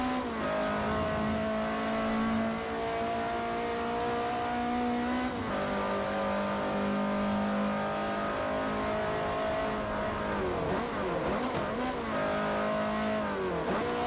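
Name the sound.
race car engine in the video game Forza Motorsport 4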